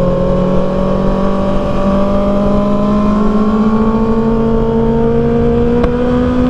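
A 2024 Kawasaki ZX6R engine drones steadily during a hard break-in ride, its pitch rising slowly and evenly as it holds revs, loud and close with no talk over it.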